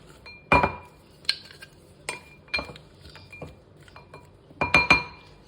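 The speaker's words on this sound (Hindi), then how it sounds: "इस सैलेड को बहुत अच्छे से हम मिक्स करेंगे" Salad is tossed in a bowl, with a spoon striking the rim in a string of bright, irregular clinks separated by brief quiet gaps.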